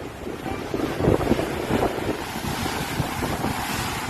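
Strong sea waves surging at a beach in Santa Quezon, Ilocos Sur, a steady broadband roar with heavy wind buffeting the microphone and a few louder wave crashes near the start.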